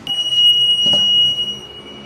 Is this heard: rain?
no